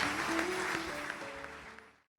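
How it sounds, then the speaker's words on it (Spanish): A church congregation gives a short burst of applause, steady and dense, fading out after about two seconds with a faint musical tone beneath. "Dale un fuerte aplauso al Señor."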